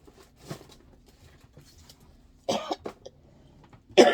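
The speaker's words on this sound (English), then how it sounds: "I am still really coughing." Several sharp coughs break out against near silence, a small one early and two louder bursts later, close to the microphone.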